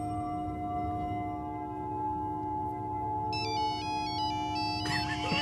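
A mobile phone ringtone plays a looping electronic melody in a tense public place where people are meant to be relaxing, chiming clearly over a steady hum for a couple of seconds before a burst of noise.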